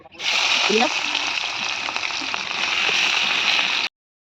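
Fish rubbed with salt and turmeric dropped into hot oil in a pan on a rooftop clay stove, a loud continuous sizzle up close that cuts off abruptly, with a voice briefly under it.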